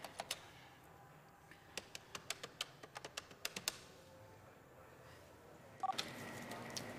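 A telephone keypad dials a bakery, producing a quick, faint string of short beeps at an irregular pace. A brief tone follows near the end in an otherwise quiet room.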